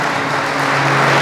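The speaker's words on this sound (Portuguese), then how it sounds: "Aplauda o Senhor." A church congregation claps during a sermon, a loud continuous patter of many hands close by, with a steady low hum running underneath and no speech over it.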